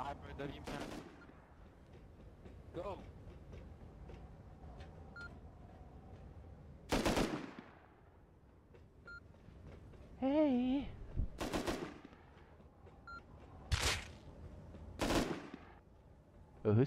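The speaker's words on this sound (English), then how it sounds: "Who's firing right there?" Scattered gunshots in Rust Console ring out in sharp, isolated cracks, several spread over the stretch, with quieter background noise and occasional talking between them.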